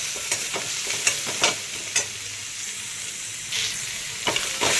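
Kat vada ingredients fry and get stirred in a pan until reddish, giving a steady close sizzle broken by several sharp scraping stir strokes, with no talking.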